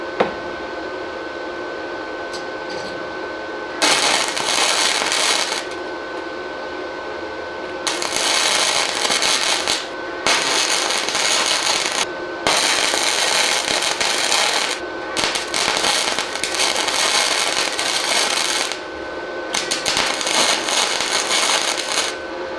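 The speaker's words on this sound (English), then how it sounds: "we'll weld a few tacks down through here" Flux core welder laying tacks onto a car floor pan: several loud bursts of crackling, spitting arc noise lasting one to four seconds each, separated by quieter pauses with a faint steady hum.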